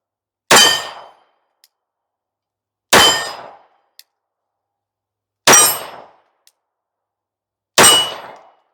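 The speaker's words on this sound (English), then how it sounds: "5 rounds through the RM1C on some steel." Handgun fired with an RM1C at steel targets outdoors: four sharp, loud shots evenly spaced about two and a half seconds apart, each with a short ringing decay, and faint metallic pings between them.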